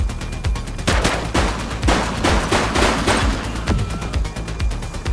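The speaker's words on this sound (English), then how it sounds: "He's shooting!" Rapid bursts of gunfire from a suspect in the police video game The Precinct crack in irregular clusters, loud and close, with no talk over them.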